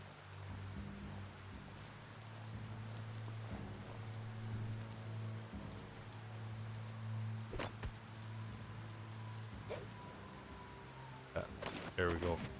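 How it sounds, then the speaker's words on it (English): Rain falls in the action video game Biomutant as a steady, soft hiss beneath a low game hum, with a few sharp clicks and knocks near the end. "Raining. It's raining."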